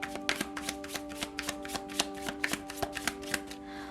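Tarot cards being handled and shuffled in a pick-a-card reading, a fast steady run of crisp riffling snaps and paper flicks, close and fairly loud, with a faint constant hum underneath and no talk.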